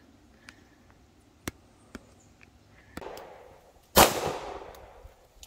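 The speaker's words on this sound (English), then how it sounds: "we're only going to shoot one shot at the bullseye three times" Shots from a 9mm pistol at an outdoor shooting range, 10 yards from the target: a few sharp distant cracks, then one much louder close report that rings out and decays.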